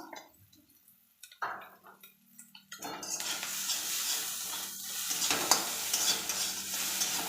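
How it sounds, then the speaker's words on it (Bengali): A spice paste is mixed in a hot pan and starts to sizzle loudly after a few soft scrapes, with steady frying hiss and stirring scrapes continuing to the end. "এবার ভালোভাবে মাখিয়ে নেব মশলাটাকে"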